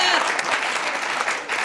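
Audience applause at an international round-table panel on indigenous filmmaking, a steady dense patter of many hands clapping throughout, fairly loud and continuous.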